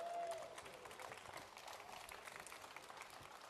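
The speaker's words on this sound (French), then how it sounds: "On l'applaudit encore une dernière fois, Vitaly Makoukine." A concert audience at an outdoor summer music festival applauds a performer, with a steady wash of dense clapping that stays loud and fairly even throughout.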